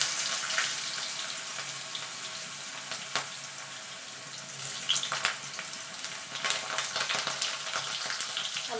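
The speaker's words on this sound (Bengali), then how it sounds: "আলুটা একটুখানি ভাজা ভাজা করে নেব।" Potato pieces fry in hot oil seasoned with black cumin, giving a steady, fairly loud sizzle throughout with brief crackling bursts and no voices.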